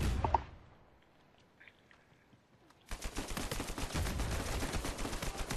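Gunfire in the online multiplayer video game Uncharted 4, a sharp burst at the start, a quiet lull, then sustained rapid shooting and blasts filling the rest, loud and dense.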